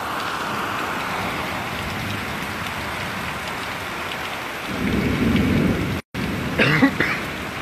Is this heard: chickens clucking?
no